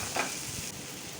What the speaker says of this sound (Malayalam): അതിനാവശ്യമായി വഴലാൻ വേണ്ടിയുള്ള ശകല ഉപ്പും ഇട്ട് നമുക്കിതിനെ ഒന്ന് വഴറ്റിയെടുക്കാം